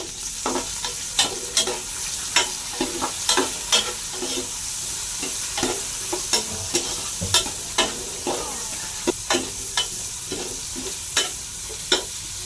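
Onions and tomatoes fry in a pan for sinigang with a steady sizzle, while a utensil scrapes and stirs with repeated sharp clicks throughout.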